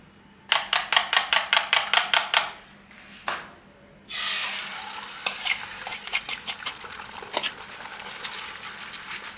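Eggs being cooked in hot oil in a pan for hakka noodles: a quick run of about ten sharp taps at the start, then a loud sizzle that keeps going under scraping and stirring.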